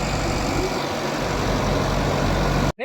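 Kubota 4x4 tractor engine running steadily with a low, continuous rumble, loud and close, cutting off abruptly at the end.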